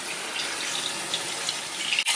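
Hot water runs steadily from a tap over the plastic clips of a McCormick cotton candy machine, a constant gushing splash that stops abruptly near the end.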